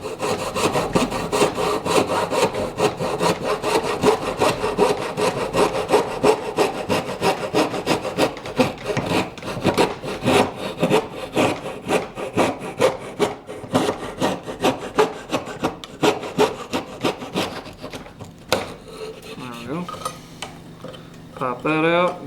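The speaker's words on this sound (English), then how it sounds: "we're going to use the coping saw" A coping saw rasps through wood in quick, rhythmic back-and-forth strokes, close and continuous, then slows to a few scattered scrapes and light handling noises near the end.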